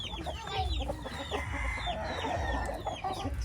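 Chickens clucking in a yard behind a house, several birds with busy overlapping clucks and short calls, close and steady throughout.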